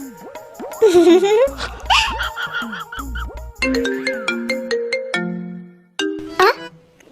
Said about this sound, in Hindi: जियान अंकल का फोन आ रहा है।